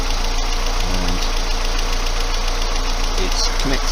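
A car engine idles steadily on a vehicle with a non-working alternator and a battery tester hooked up, giving a loud, close, constant rumble with faint rhythmic knocking and brief hints of a voice in the background.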